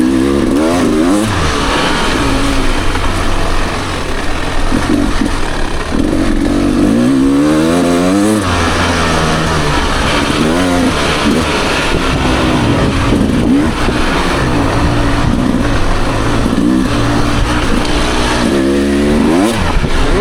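A 2023 Beta Xtrainer dirt bike is ridden off-road, its engine revving up and down repeatedly through gears, loud and close over continuous wind noise.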